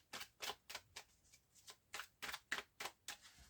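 Deck of tarot cards being cut and handled, a series of about a dozen crisp, close papery card snaps and flicks in an uneven rhythm, heard alone and fairly quietly.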